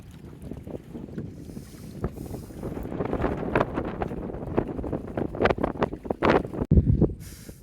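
Wind buffets a small wooden river boat out on the open water, rumbling and gusting hard against the microphone in uneven bursts, with occasional knocks and creaks from the hull, close and fairly loud.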